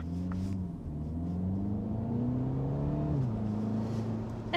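A 2023 Mini Countryman Cooper S of about 170 brake horsepower drives along with a steady engine drone that climbs in pitch, drops briefly near the end and carries on as a continuous close rumble, with no talking.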